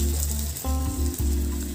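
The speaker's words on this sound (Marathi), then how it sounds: "थोडीशी तेलावरती परतून घेणार आहोत" Stuffed brinjals frying in hot oil in a pan, a loud steady sizzle close up, with brief dips where the pieces are moved.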